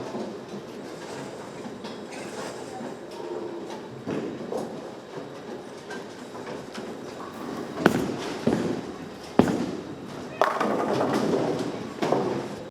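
A bowling ball rolls down a lane in a bowling alley, a long rumbling roll building over several seconds and ending in loud clattering pin strikes amid the alley's background din.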